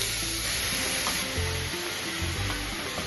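Chicken, tomato and onion cook in a pan without oil for a traditional Assamese dish, giving a steady close sizzle with scattered stirring scrapes and clinks and no voices.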